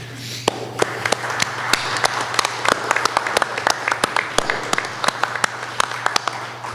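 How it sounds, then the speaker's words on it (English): Sparse applause at the GUADEC 2024 annual general meeting honours the staff team, with distinct individual claps ringing out sharply over a low steady hum, moderately loud and irregular in rhythm. "I just wanted to give a big round of applause and a huge thank you to our staff team"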